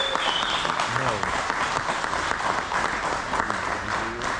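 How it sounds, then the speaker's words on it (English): A round of applause from the audience at a reunion evening, steady and sustained through the whole stretch, with voices talking over the clapping. "Let's give him a round of applause."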